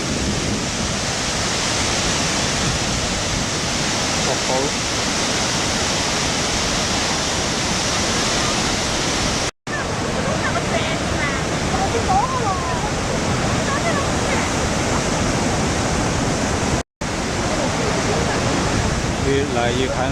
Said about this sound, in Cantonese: 湖口大瀑布啊！